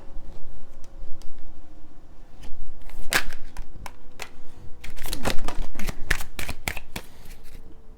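A Kipper card deck is shuffled and cards are pulled during a tarot-style reading, giving a string of crisp riffling snaps and sharp card flicks that come in irregular bursts, close and fairly loud.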